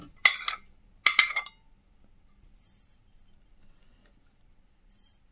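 Utensil clinking against a dish while three vegetables are mixed together for baking, two quick bursts of clatter near the start and a faint lighter clink near the end, otherwise quiet.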